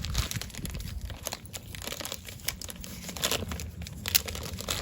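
Plastic wrapping around Costco nursery plants being cut open, a steady close crinkling and rustling with scattered sharper crackles and snips, no talk.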